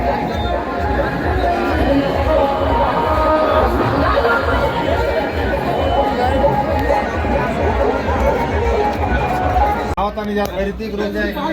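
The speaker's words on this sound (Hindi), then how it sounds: "और देखिए मनीष भैया के घर का भीड़।" A dense crowd murmurs and chatters outside Manish Kashyap's village house, a loud continuous babble of many voices with people talking nearby throughout.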